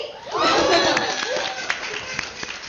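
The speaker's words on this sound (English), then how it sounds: "Give it up for Rainy." A crowd at a charity week finale event in Canada claps and cheers for the co-host, a burst of applause that peaks early and then thins into scattered claps and whoops, with a voice mixed in.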